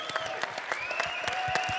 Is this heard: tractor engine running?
no